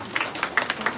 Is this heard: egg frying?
no